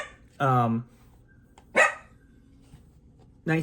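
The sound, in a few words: dog barking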